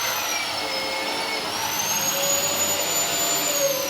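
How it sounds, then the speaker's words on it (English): Continuous high-pitched whine of a magnetic drill running steadily on steel during house restumping, with a slight pitch shift partway through, loud and close. "magnetic drill"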